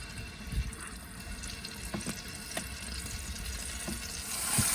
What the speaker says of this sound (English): you'll be able to hear it cooking.